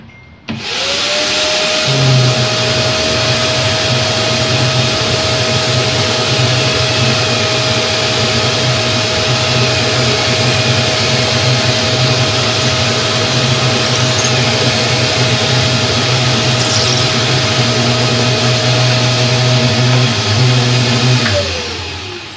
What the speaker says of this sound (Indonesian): Oke, kita akan melakukan pengeboran.